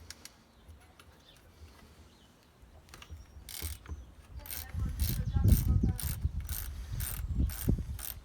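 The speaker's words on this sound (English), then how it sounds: "To take the caliper off the bike, we undo this 10mm nut at the back." A wrench works a 10mm nut at the back of a Weinmann side-pull bicycle brake caliper: quiet handling at first, then a run of sharp ratcheting clicks growing louder and closer, repeated in a quick rhythm.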